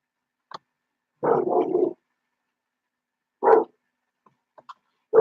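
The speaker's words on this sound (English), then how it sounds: "Your neighbour's dog's doing something in the back here." A neighbour's dog barks in a few separate bursts, a longer run of barks followed by a single bark and another starting at the end, with faint clicks between and otherwise quiet.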